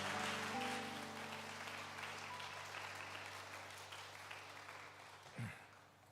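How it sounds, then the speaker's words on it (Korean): A church congregation at a revival service gives sustained applause that is soft and somewhat distant, slowly tapering, with a single dull thump near the end. "우리가 큰 박수로 우리 목사님을 환영하고 격려하면 목사님 힘이 나실 것 같아요"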